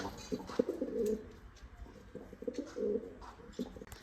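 Soft, low cooing from several pigeons, repeating in short bursts over a faint background hum.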